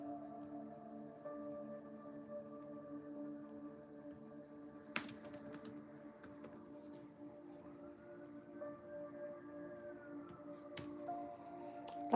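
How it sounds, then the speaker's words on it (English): Faint sirens wail outside, steady tones sliding up and down in the distance, with occasional keyboard taps and clicks close by and no talking. "A lot of sirens today,"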